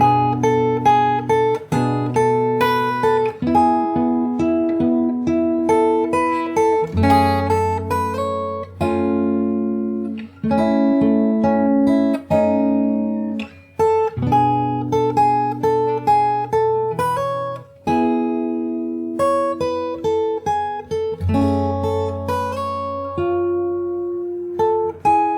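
Fingerstyle acoustic guitar plays the bridge of a song, with clear plucked notes and chords ringing out at a slow, steady pace. The playing is close and alone, with no voice over it.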